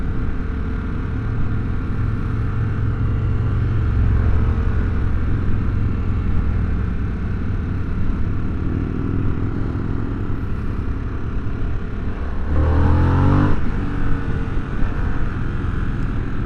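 A 2022 Harley Davidson Sportster S cruiser accelerating hard: a deep, steady engine rumble with wind noise that swells, then a rising, sweeping engine note near the end as revs climb.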